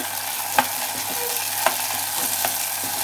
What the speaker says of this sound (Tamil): போட்டுட்டு எல்லாத்தையும் நல்லா ஒன்றா கிண்டி விட்டுருங்க